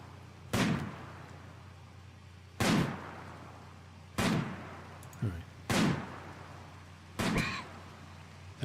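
Gunfire in a hunting video game: five sharp, loud shots spaced irregularly a second or two apart, each with a short decaying tail over a steady low hum, no talking.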